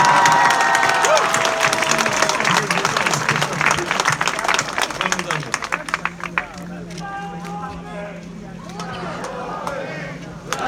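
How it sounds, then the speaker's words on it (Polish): A large outdoor crowd at a Poznań protest rally claps and cheers loudly and continuously, the dense applause thinning after several seconds into scattered claps amid voices and crowd noise. "Oraz wielkie brawa Jarek Krawczyk,"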